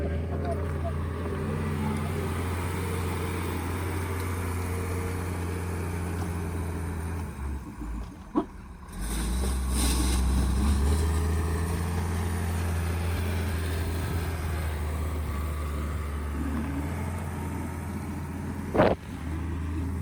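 A Caterpillar heavy machine works to clear a highway in The Gambia, giving a steady low engine rumble with a surge around the middle and a sharp knock near the end, under faint background voices.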